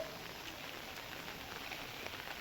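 Rain falls outdoors in a steady, faint hiss of drops striking surfaces, an even wash of sound with no voices.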